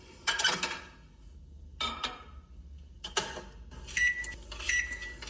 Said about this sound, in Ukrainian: Це от коли ти береш тарілку, закриваєш мікрофильовку, щоб вона грілась.